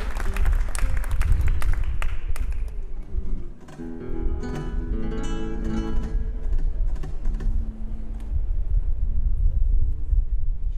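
An audience at a rumba concert gives a dense, crackling round of clapping for a birthday, loud at first, dipping briefly, then continuing with scattered claps over a lingering instrumental tone.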